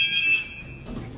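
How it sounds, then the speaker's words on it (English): A lift's alarm sounds as a shrill, steady electronic tone, loud and close, fading out after under a second into a dull thud with no talking. "Now she's pressing alarm."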